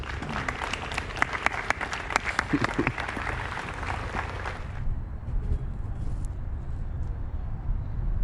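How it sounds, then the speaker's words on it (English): Warm applause from the audience at a Navy officer's retirement ceremony, dense clapping for the first several seconds that then cuts to quieter room noise. "Can I have a nice warm round of applause for their efforts, please?"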